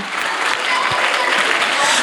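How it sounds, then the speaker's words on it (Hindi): At an Agrasen Jayanti festival, an audience claps loudly and steadily in a brief, dense burst of applause. "जोरदार तालियां हो जाए"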